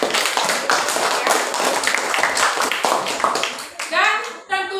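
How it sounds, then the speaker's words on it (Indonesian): Children clap for the winning farmer group in a classroom, a short burst of fairly loud, dense applause that quickly fades as a teacher's voice returns. "tepuk tangan buat kelompok petani"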